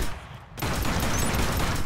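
Sniper gunfire in the shooter Killzone Shadow Fall bursts in abruptly after a short lull, becoming a loud, sustained wash of shots and battle noise with no talking.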